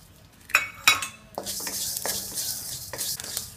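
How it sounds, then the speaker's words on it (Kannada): Fenugreek seeds roasting in a little oil for Udupi rasam powder: a bright crackling sizzle follows two sharp metallic clinks of a utensil against the pan, with faint scraping throughout. "ನೋಡಿ, ಈಗ ಮೆಂತ್ಯ ಕೂಡ ಪಟಪಟ ಅಂತ ಇದೆ."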